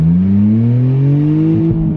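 A BMW Z4 with straight-piped exhaust revs hard and loud, the engine note climbing steadily through a raspy, droning rise over two seconds.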